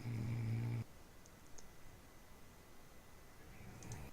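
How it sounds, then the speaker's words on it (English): A person snores loudly with one deep, rasping, buzzing snore that cuts off sharply. Quiet room noise follows, then the next snore starts to build at the end. "he like started snoring louder"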